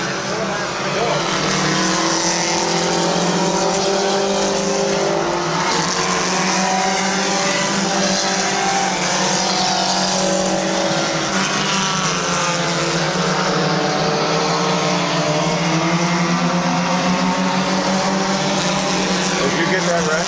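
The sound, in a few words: race cars racing at Midvale Speedway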